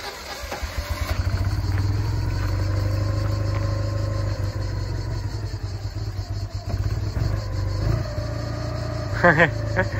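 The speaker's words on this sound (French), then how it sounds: "je tourne ici, premier tour de clé, je remets un coup et j'appuie sur le démarrage" A 1974 Citroën Méhari being started with the key: starter cranking briefly, then the engine catching and settling into a steady, close idle with rhythmic pulsing, someone talking over it.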